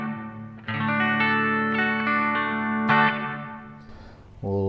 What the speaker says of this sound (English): It kind of gives us almost a bit of a slapback echo sound because it is so quick.